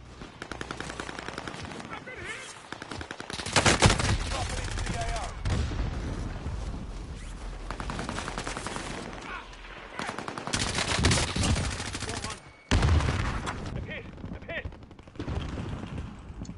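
Carbine gunfire in Call of Duty: Warzone on Rebirth Island, loud repeated automatic bursts and shots in close succession, with a few louder bangs and some talk over the shooting.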